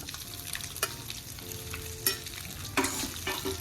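Thin slices frying in hot oil with white sesame seeds and curry leaves give a steady close sizzle, with a few sharper crackles and stirring clatters.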